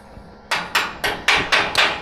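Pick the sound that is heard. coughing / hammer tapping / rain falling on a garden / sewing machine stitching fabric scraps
hammer tapping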